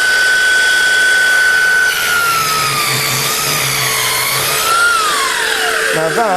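An Exakt DC270 plunge saw cuts through a floorboard: a loud, close, continuous high-pitched motor whine whose pitch sags under load and drops as the cut finishes, with no talking.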